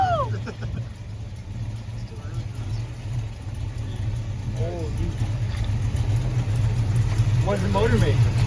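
A 1968 Plymouth Barracuda's engine runs nearby with a steady low rumble that gradually builds in loudness, while voices talk briefly over it.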